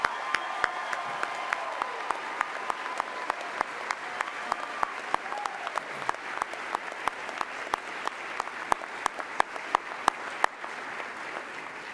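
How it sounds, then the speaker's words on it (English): A large audience applauds graduates at Oklahoma Christian University's 2019 spring commencement ceremony. Dense, sustained clapping rolls on steadily for about twelve seconds with sharp individual claps standing out, and no speech is heard over it. "How about one more round of applause for our graduates this morning,"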